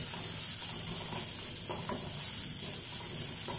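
Pepper powder being stirred into a sizzling pan mixture, with a steady soft fry hiss and scattered light scraping clicks from the spoon, close by and without talk.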